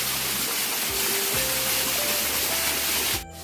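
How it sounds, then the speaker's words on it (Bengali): Small roadside waterfall in the hills near Aizawl, Mizoram, on the way to Reiek: a steady, close rush of falling water with a faint rising engine whine over it, cutting off at the end. "আর এখানে যাওয়ার সময় অনেক ঝর্ণা পড়ে, সেগুলো দেখাবো।"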